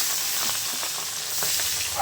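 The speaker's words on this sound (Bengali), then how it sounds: "এখানে তেলটা গরম হয়ে গেছে মাছগুলো দিয়ে দিলে" Fish laid into hot oil in a home kitchen pan, giving a steady, close broadband sizzle and crackle throughout, with small bursts of spattering and no talk.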